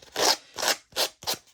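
A sanding block rasps along the edge of a paper napkin in four quick, close strokes, each a short dry scratch with a brief pause between.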